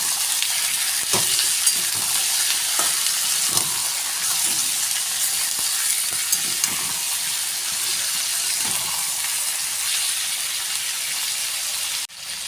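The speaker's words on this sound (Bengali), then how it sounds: "চিকেনগুলো ভালো করে নেড়ে চেড়ে একটু কষিয়ে নেব।" Chicken stirred and fried in a pan, a loud steady sizzle running throughout with occasional soft scrapes of the spoon, heard close up with nobody speaking.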